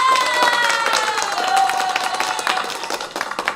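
Courtroom crowd clapping and cheering, with shouts and a few whistle-like voices over a steady wash of applause that thins toward the end.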